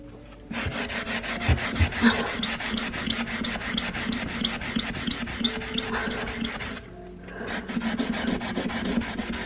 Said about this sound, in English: It is harder to try and scrub it, but I think it probably could be possible with perseverance.